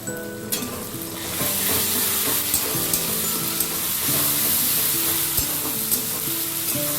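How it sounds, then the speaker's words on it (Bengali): Green chili paste hitting hot oil with lightly browned fried onions, a loud steady sizzle with spoon stirring and scraping clinks throughout, close and continuous. "এবারে দিয়ে দিচ্ছি কাঁচা লঙ্কা বাটা"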